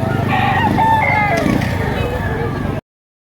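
A rooster crows once loudly and close by at a chicken market, its drawn-out call rising and falling over market chatter and other clucking fowl.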